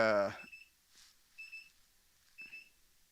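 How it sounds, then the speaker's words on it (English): A voice speaks briefly, then three short electronic beeps sound about once a second, fairly quiet against a silent background. "Something's beeping."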